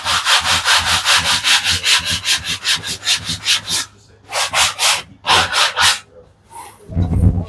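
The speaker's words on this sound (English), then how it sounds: "And this stuff sands super easy. It's super thin plywood." Thin quarter-inch Luan plywood edges being sanded by hand, a steady run of rapid rasping strokes, loud and close, pausing briefly near the end before resuming.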